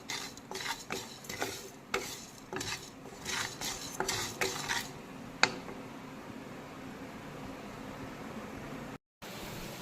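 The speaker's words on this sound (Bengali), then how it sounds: "আমি জিরে আর ধনেকে ড্রাই রোস্ট করে নিচ্ছি" Cumin and coriander seeds dry roasting in a pan, with repeated scraping, stirring and clinking of a utensil against metal over a steady low hiss, fairly close.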